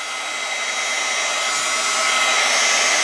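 Heat gun blowing hot air over poured resin in a plastic cup to clear air bubbles, a steady loud airy whoosh that swells slightly louder toward the end, alone without talk.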